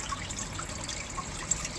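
Water pours steadily from a gravity-fed Roto shower into a koi pond setup, a soft continuous trickle and splash with faint drips, heard alone and fairly quiet.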